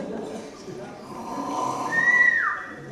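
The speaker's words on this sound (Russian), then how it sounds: "Храпит." A performer snores during a New Year stage skit about three bogatyrs and a snoring princess: one drawn-out, raspy snore that swells and ends in a thin whistling rise, close and alone.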